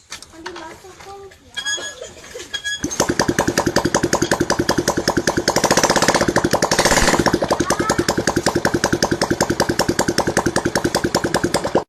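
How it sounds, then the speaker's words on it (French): A few sputtering attempts give way to an engine catching, then settling into a loud, rapid, steady chugging idle; a voice is heard briefly beforehand. "Quelle façon ingénieuse de démarrer sa moto!"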